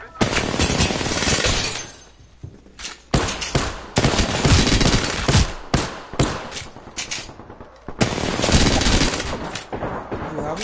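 Loud bursts of gunfire and sharp shots hit in clusters with brief lulls between them, close and forceful, as a player's voice breaks in now and then.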